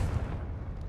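A Confringo blasting spell fires in the game Hogwarts Legacy, one deep rumbling explosive boom that swells and decays over about a second with no voices.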